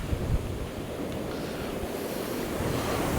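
Stormy sea waves surge continuously onto a beach at Walcott, washing small gravel up the shore, a loud, steady roar of broken surf with heavy wind buffeting the microphone and no voices.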